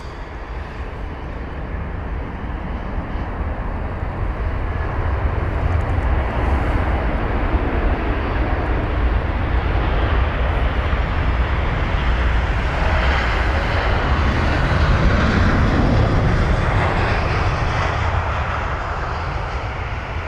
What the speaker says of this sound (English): So it's KL1009, a KLM 737-800 with the reg Papa Hotel Bravo Charlie Delta, or PHBCD.